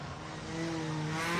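Honda Civic rally car revving on a closed rally stage, a steady engine note with clear harmonic tones that grows louder and rises in pitch toward the end, heard alone without talk.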